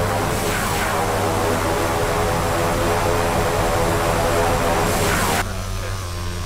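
Turboprop airliner engines drone steadily through a crosswind landing in the X-Plane flight simulator, a constant loud propeller hum with a low tone that cuts abruptly to a quieter whine near the end.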